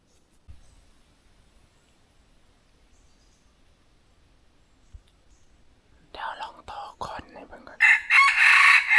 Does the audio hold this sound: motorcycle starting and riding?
no